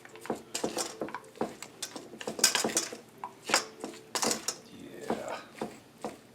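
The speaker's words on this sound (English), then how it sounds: "Have to mix it around well. Make sure everything is blended." A spoon clacks and scrapes against a bowl while Jamaican curry chicken salad is stirred with mayo, giving a quick irregular run of sharp knocks and scrapes up close with no talking.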